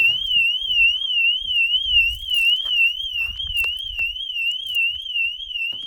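A car alarm set off by a repaired key fob wails steadily nearby, a warbling high-pitched tone rising and falling in a continuous rapid cycle, with faint thumps underneath.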